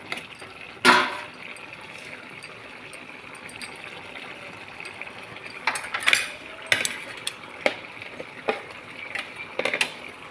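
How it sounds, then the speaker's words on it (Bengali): Stirring cumin powder into a cooking pot of fish-head and ash gourd ghonto: a few scraping clinks of a spoon against the pot, one louder scrape early and a scatter of quieter taps later, over faint background hiss. "জিরা গুঁড়ো দিয়ে একটু নাড়াচাড়া করে নেব।"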